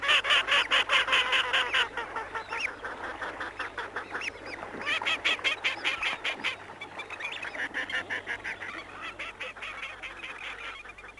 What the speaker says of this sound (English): there's the chuckling call of grey teal, one of the commonest sounds in our wetlands